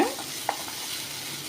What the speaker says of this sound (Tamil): இப்போ இதே ஆயிலில் பொடிச வெங்காயம் கட் பண்ணி வச்சுருக்கேன் இதை ஆட் பண்ணிக்கலாம் வெங்காயத்தை நல்லா வதக்கி விட்டுக்கோங்க